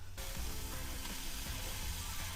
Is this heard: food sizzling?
yes